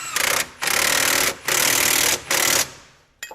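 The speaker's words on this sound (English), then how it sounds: "and then tighten the nuts up" Nuts are tightened on the front strut bolts of a Range Rover L322 with what sounds like a power tool: three loud, close, rattling bursts, each about a second long, with short breaks between them.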